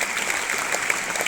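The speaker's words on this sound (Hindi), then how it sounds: "इन 20 बच्चों के लिए जोरदार तालियां बजाओ" Schoolchildren clapping together in a school gathering, a steady crowd of small hands applauding at moderate level, with a few sharper claps standing out from the even patter.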